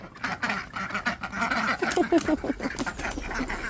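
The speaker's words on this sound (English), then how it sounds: "I gotta let my ducks out really quick." Domestic ducks quack in the morning as they are let out, a cluster of raspy, overlapping quacks close by, with faint rustling and movement around them.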